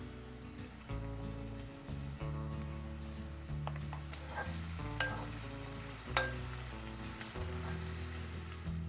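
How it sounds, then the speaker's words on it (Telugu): Ginger and garlic sizzle and fry in a pan for chicken curry, a steady close crackle with intermittent stirring scrapes and clinks of a utensil against the pan. "ఇప్పుడు అల్లం ఎల్లిగడ్డ వేస్తా"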